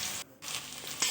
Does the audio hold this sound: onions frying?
yes